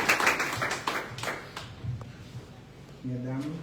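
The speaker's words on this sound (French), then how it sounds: "Et nous avons applaudi Dr. Nixon" Scattered applause from a small audience at a hospital inauguration ceremony, a handful of distinct sharp claps fading out over a couple of seconds before a voice begins speaking near the end.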